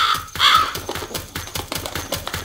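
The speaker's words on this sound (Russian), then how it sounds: "Вороны." Crows cawing in a dark forest scene of a horror video game, a few harsh caws up front followed by a rapid series of short clicking taps.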